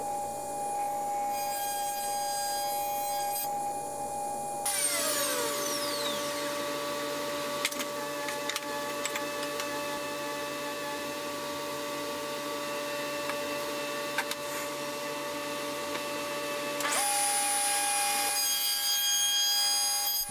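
A router on a router table cuts dovetail tailboards in wood with an Incra jig, giving a loud, continuous high whine that shifts in pitch as the cuts bite, with no talking.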